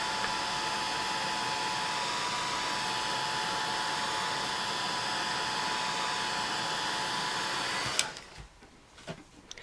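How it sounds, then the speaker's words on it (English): Heat tool blowing hot air over beeswax batik on a craft card, a loud steady close whoosh for about eight seconds that cuts off abruptly, leaving faint handling sounds. "I'm going to take my heat tool and just hit it one last time with some heat"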